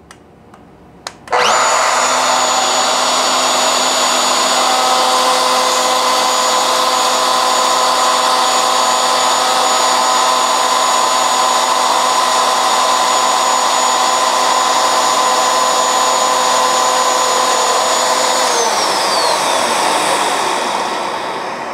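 A router spins up sharply after a couple of clicks and whines loudly and steadily as it cuts a channel in wood for a tool chest, then winds down toward the end.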